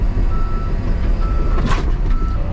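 Machine reversing with its backup beeper sounding, a thin repeated tone over a loud, steady close engine rumble.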